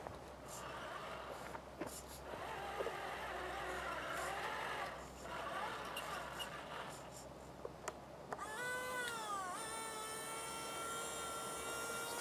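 A King Hauler RC dump truck with an 85-turn electric motor works on building a road. It makes a faint, continuous motor whine with scattered clicks, and the pitch sweeps up sharply near the end.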